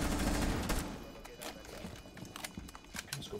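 Shotgun blasts and other weapon fire in the video game Shifting Tides, with a heavy boom at the start followed by scattered sharp shots and clattering game sounds, while players talk over it.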